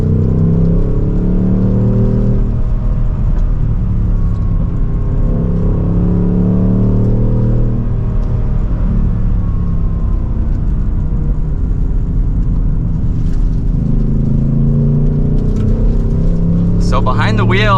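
A 2024 Ford Mustang GT Convertible Premium accelerates hard from second gear, its V8 exhaust rumbling loudly and rising in pitch with a brief lull as it shifts, and a voice speaks briefly near the end.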